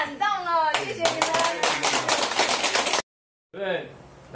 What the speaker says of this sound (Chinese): 所以我们大家再给他一个热烈的掌声鼓励。